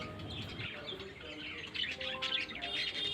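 Covered birds at a house chirp and tweet in quick, faint, overlapping calls, with a few brighter chirps coming closer together toward the end.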